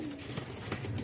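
A father pigeon held in the hand gives a soft, low coo, faint and brief against background noise.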